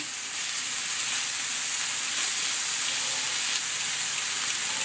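Jackfruit and meat frying in a pan for ginataang langka, a continuous bright sizzle with soft stirring underneath, close and steady, no one talking.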